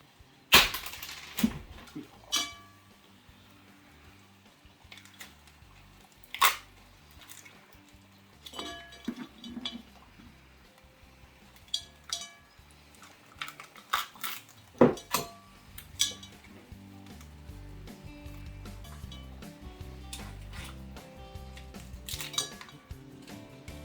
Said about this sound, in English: So we're just going to break them down the middle and get them in the pot.